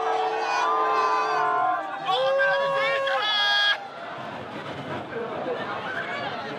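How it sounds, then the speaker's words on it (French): A late-night crowd breaking up on a Paris street around 1 a.m.: loud overlapping shouts and whoops from young people close by, then a steadier, more diffuse babble of many voices. "À 1h du matin, le rassemblement se disperse."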